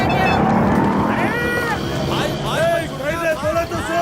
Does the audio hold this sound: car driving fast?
yes